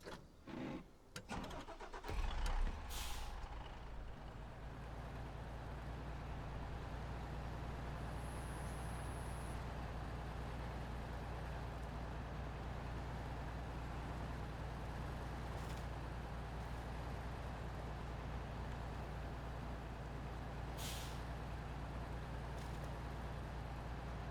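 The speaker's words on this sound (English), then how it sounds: "This is one heavy log, but this old Freightliner handles it elegantly." An old Freightliner truck hauling a heavy log drives steadily, its engine a loud continuous low drone from start to finish, with a few brief knocks and rattles early on and no talking.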